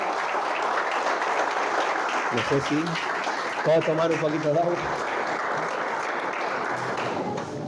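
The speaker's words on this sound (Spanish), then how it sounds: "¿Le puede dar un aplauso al Señor?" A church congregation applauds in sustained, dense clapping that fills the space, while someone speaks briefly in Spanish over it partway through.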